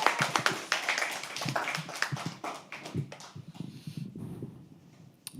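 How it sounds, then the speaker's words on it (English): An audience at a live poetry open mic applauds, a burst of close, dense clapping that fades gradually into scattered claps and quiet room noise. "Can we please have a round of applause?"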